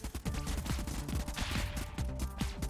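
In the video game Convoy, rapid bursts of gunfire rattle off in quick succession, a dense fusillade of sharp repeated shots.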